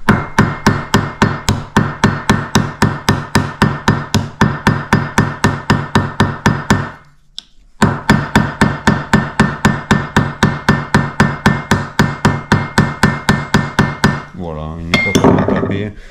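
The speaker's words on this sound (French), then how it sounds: "je vais vous montrer avec le marteau d'entrée à bouterolle, couteau fermé ou ouvert" A hammer with a rivet set strikes rivets while assembling a Capucin knife kit, delivering a long, fast, steady run of sharp metallic taps close by, broken by a brief pause before the hammering resumes.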